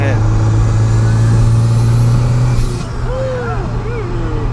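A turbocharged Toyota MR2 engine pulls hard with a loud, steady droning tone that abruptly drops away as it hits boost cut, and a voice is heard near the end.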